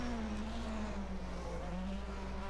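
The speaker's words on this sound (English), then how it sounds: "Downshifting for the hairpin." A Formula 1 race car at the 1991 Canadian Grand Prix downshifts into a hairpin, its engine a sustained droning whine that holds at a steady level.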